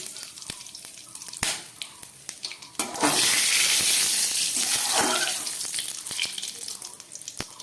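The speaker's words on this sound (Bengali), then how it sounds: "এখানে সর্ষের তেল দিলাম, দিয়ে দিচ্ছি একটু এলাচ আর লবঙ্গ, সঙ্গে দিয়ে দিচ্ছি একটু তেজপাতা, আর দিয়ে দিচ্ছি গোটা জিরে ফোড়ন" Whole cumin, cardamom, cloves and bay leaf drop into hot mustard oil, bursting into a loud, hissing sizzle that swells suddenly, then settles into a steadier crackle with scattered pops.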